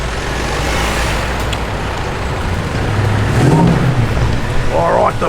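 A Holden VK car gives a short engine rev as it arrives at a car show, a brief rising growl over steady crowd and traffic noise.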